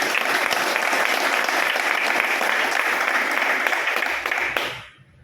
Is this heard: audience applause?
yes